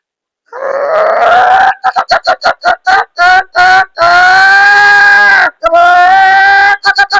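A voice imitates a rooster crowing, loud and close, with a long drawn-out crow followed by a burst of choppy, stuttering calls.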